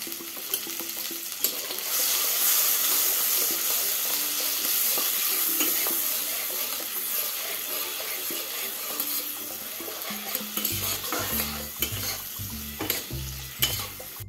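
Spice mix sizzles in hot oil with cinnamon for a Bengali soya curry, a steady loud frying hiss, later joined by scraping stirring strokes in the pan.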